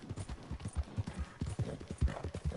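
Horse hooves clip-clop at a quick, steady trot in Red Dead Redemption 2, close and rhythmic, with a faint voice under the beats.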